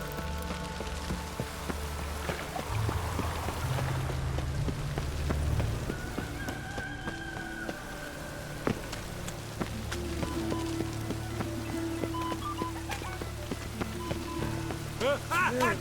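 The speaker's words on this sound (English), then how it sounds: "Even the rain smells different here." Rain falls steadily in The Witcher 3 video game, a continuous patter of drops on surfaces, with scattered footsteps and soft game sounds mixed in.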